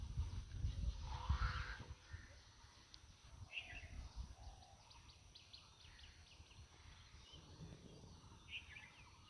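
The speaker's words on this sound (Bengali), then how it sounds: "অনেক সুন্দর আওয়াজ শোনা যাচ্ছে আজকে সকালবেলা পাখিদের" Faint birdsong drifts through a morning countryside scene among tall bamboo and grass near a pond, with scattered distant chirps and a few harsher calls over a quiet, soft background.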